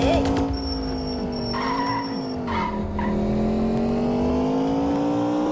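Car in the video game Indian Theft Auto reversing at speed, a steady loud engine drone with tire skidding and squeal, a few brief tonal game effects over it and no talk.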